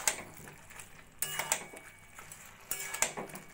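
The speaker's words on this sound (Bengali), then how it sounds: "মিট মশলা ভালো করে তরকারির সঙ্গে মিশিয়ে নেব।" A spoon clinks and scrapes against a pan while meat masala is stirred into a prawn and cabbage curry with potatoes. The taps come in quiet, irregular clusters.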